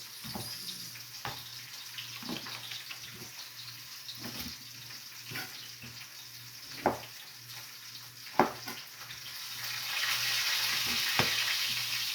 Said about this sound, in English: You want to fry these to crispy, but not overly crispy